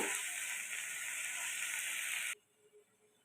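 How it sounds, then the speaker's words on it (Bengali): Pumpkin leaves sizzling in a wok as their water cooks off, a loud, even hiss for about two seconds that cuts off sharply into near silence. "পাতা থেকে যে এক্সট্রা জলটা বেরোবে সেটা আমি কিন্তু এখনই কড়াইতে খুব ভালো করে শুকিয়ে নিচ্ছি"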